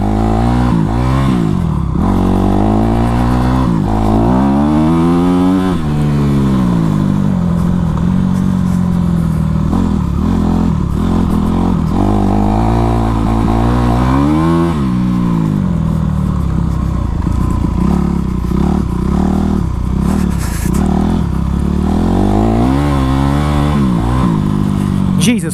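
A Honda CRF450 dirt bike ridden by a beginner revs loud and close. The engine pitch climbs and falls again and again through the throttle, with clattering mechanical noise underneath.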